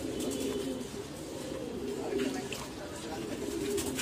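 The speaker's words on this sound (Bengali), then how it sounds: "এটা এখন বিডার কবুতর, যেগুলো দেখতেছেন এটা বিডার কবুতর" Pigeons coo steadily in low, throaty murmurs, several birds overlapping in a continuous soft burble, with faint chirps and some background noise.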